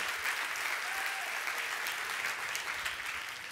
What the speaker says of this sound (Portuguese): Palmas para o Whindersson Nunes.